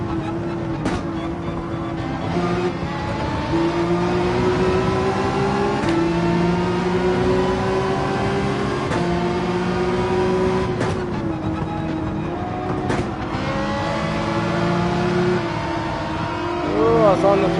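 A Red Bull race car engine in Gran Turismo 7 hums and climbs in pitch as it accelerates, a sustained in-game drone with shifts and revs, while a voice talks over it.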